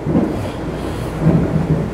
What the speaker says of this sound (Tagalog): yung kulog na rinig niya